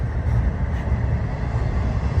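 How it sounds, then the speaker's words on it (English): A train rumbles into a station on a Chicago to Memphis route, a steady low roar of rail cars close by, with no talking. "That train pulled up while the IM stopped."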